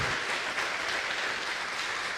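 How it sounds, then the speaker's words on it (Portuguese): Church congregation clapping during a worship service, a steady, moderately loud wash of applause sustained throughout, with no voices over it. "O Senhor merece palmas, né, gente?"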